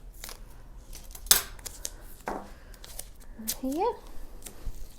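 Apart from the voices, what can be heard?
scissors cutting masking tape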